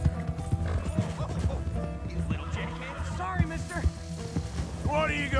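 A horse whinnies and its hooves clip-clop in Red Dead Redemption 2, mixed under game music and talk, with a rising neigh near the end.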